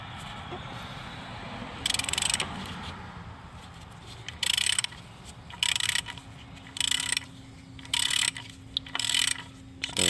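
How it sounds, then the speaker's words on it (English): An extended ratchet works 15 mm bolts loose on a Chevy Cruze during timing belt replacement, giving repeated bursts of close, sharp clicking over a low background hum. "Got my extended ratchet."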